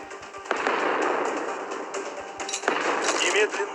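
Warship guns fire in the naval combat game Battle of Warships during aircraft-carrier play, as sharp crackling blasts with a loud burst early and another near the end over a continuous noisy battle din.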